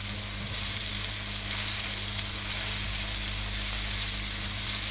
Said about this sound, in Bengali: আমি আস্তে আস্তে করে ভেজে নিচ্ছি